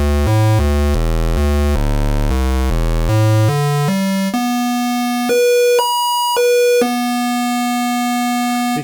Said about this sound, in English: This is square wave.